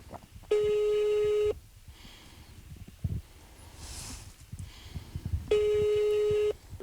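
An unanswered telephone call sounds its ringing tone: two long, evenly pitched rings about five seconds apart, with quiet background noise in the gap between them.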